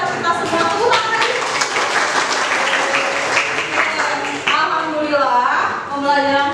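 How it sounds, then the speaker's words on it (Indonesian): Students clap in a classroom as a lesson wraps up, loud close applause mixed with children's voices and excited calls, dipping briefly before rising again. "Tepuk tangan dulu sekali lagi buat kita semua."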